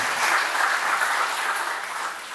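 Applause from an audience, a dense wash of clapping that stays steady and fades slightly at the end.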